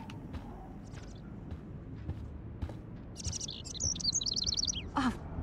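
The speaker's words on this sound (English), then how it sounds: "Can you help me get this bird out of here?" A small bird in the video game Life Is Strange chirps in quick bursts of high tweets over a low rumbling background, with a few soft thuds.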